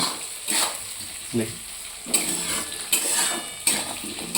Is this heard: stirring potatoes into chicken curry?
yes